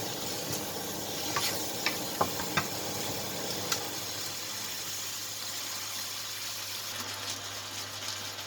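Seasoned, blanched mushrooms with pepper, salt and MSG are stir-fried in a pan. There is a constant sizzle and a few sharp clicks of a utensil early on, then a steadier, softer frying hiss.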